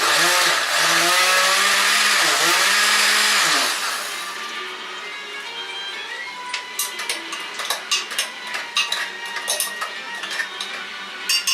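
A loud blender motor whirs and whines with shifting pitch for about four seconds, blending whole dried chili pods into paste, then stops, leaving scattered clinks and taps of items being handled.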